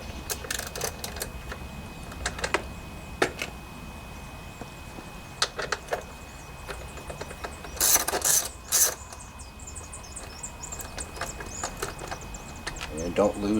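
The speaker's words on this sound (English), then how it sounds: "I have a 12mm socket here for the seat." A socket wrench works the seat bolts on a 2002 Honda XR400R motorcycle, giving scattered sharp ratcheting clicks and metallic taps in short bursts against a quiet workshop background, with a voice speaking at times.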